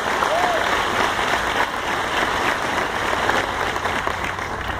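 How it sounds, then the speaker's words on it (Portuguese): A congregation at a prophetic conference in Salvador, Bahia, Brazil gives an ovation to the Lord, broad continuous applause and crowd noise spreading through a large hall, loud and unbroken across the whole stretch. "Vamos dar esse aplauso ao Senhor."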